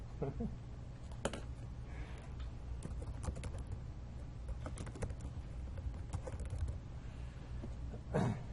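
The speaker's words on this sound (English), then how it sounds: "maybe I'll type this out" Keystrokes on a computer keyboard tap out in scattered, irregular clicks against a steady room hiss, soft and at moderate distance.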